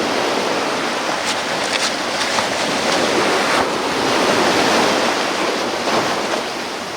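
Saltwater ocean waves wash and roar continuously close by, a loud broadband surf with gusty wind noise on the microphone and no talk.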